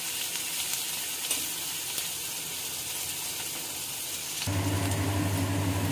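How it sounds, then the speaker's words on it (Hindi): Mixed vegetables fry loudly in a hot pan for veg Hakka noodles. A dense, continuous sizzle carries on throughout, and a low steady hum joins it near the end. "और इसको हम और अच्छे से फ्राई कर लेंगे।"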